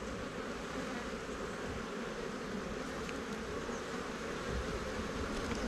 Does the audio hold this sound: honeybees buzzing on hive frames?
yes